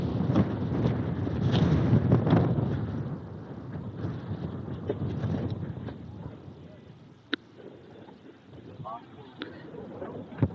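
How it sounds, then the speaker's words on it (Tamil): Strong gusts buffet the microphone at the Narasimukku mountain viewpoint on the Attappadi road, a loud low rumble that surges and eases over several seconds, with a voice speaking over it. "காற்று என்னையே தள்ளுதுங்க."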